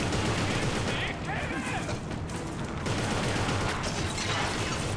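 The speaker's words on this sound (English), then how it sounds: "Oh god, I'm getting shot again." Dense gunfire from the video game Inversion fills the whole stretch as sustained bursts, loud and close, mixed with other game sounds and a voice talking over it.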